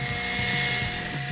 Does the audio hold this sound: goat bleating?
no